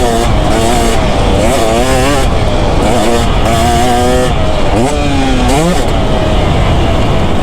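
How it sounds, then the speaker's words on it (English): A 2024 KTM 250 SX fuel-injected two-stroke motocross bike ridden hard, its loud, close engine repeatedly revving up and down through gears with a buzzy, rising and falling wail. "250 2-stroke motocross bike is fuel injected? That's absolutely amazing."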